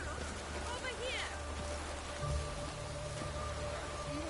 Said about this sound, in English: Hope it rains like this come sowing time.